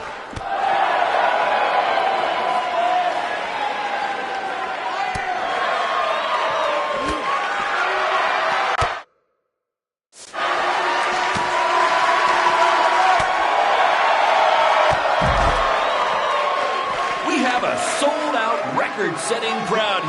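A large arena crowd cheers and roars at a wrestling show in WWE 2K19. The noise is dense and continuous, broken by a short silent gap midway, and a voice talks over parts of it.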